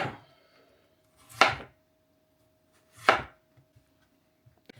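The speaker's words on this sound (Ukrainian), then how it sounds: "і картоплю ми також наріжемо 4-5 см товщиною" A knife slices through potatoes on a cutting board in a home kitchen: two distinct, crisp chops a couple of seconds apart, close and clear, with faint small taps afterward and no talking.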